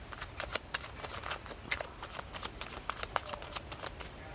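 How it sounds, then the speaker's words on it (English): A tarot deck is shuffled with a continuous soft riffling and flapping of cards, close and quiet, rhythmic bursts running throughout without talk. "I've been shuffling this deck kind of a lot."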